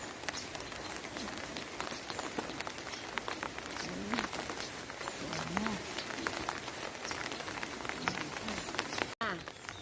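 Steady rain falling in a garden, a dense continuous patter of drops on surfaces with scattered sharper hits, fairly close and unbroken throughout, with no voices.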